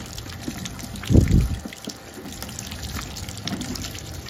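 Water poured over a dirty ondel-ondel puppet face to wash it, a brief close splash burst near the start and a softer splash later, over a faint background.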